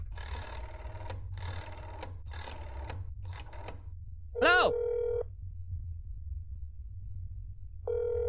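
Telephone dialing in the horror game That's Not My Neighbor: a few soft clicking bursts, then a rising electronic chirp settles into a steady ringing tone that returns at the very end, with low background hum.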